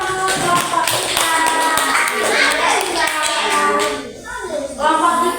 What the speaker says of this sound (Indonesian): Kasih aplaus kelompok 3.